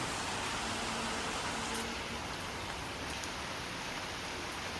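Steady rain falls outside a house during a monsoon day, a soft continuous hiss of drops on surfaces at a low, even level, without voices.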